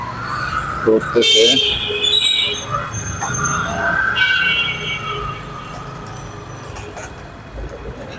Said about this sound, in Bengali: রেল লাইনের রেল যাওয়ার যেই সিগন্যাল, সেই সিগন্যালটা মনে হচ্ছে